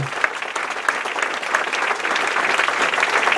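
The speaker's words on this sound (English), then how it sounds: "Round of applause for James O'Keefe of Project Veritas" An audience at the Liberty Forum political event breaks into applause, the dense clapping building steadily in loudness over a few seconds, heard alone without talk.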